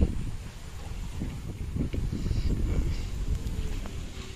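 Steady low rumbling wind buffeting the microphone outdoors by a river, continuous and fairly loud, with faint background activity.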